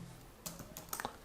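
Several quick, close keystrokes on a computer keyboard, a short irregular burst of typing against a quiet background.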